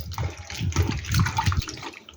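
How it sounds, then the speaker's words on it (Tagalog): Sliced bitter gourd drops into a bowl of salted water, giving close, uneven splashing and sloshing that lasts the whole moment. "Ilalagay natin yung ating ginayat na ampalaya."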